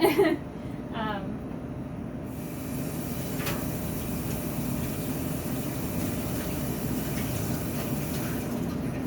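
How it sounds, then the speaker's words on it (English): Tap water runs steadily as vegetables and green onions are rinsed, a continuous close rushing wash with brief clattering handling near the start. "So again, I'm rinsing my veggies."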